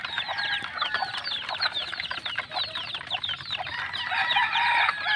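Two-month-old chicks in a coop at feeding time keep up a dense, continuous chorus of clucks and peeps, close by and steady throughout with no talking.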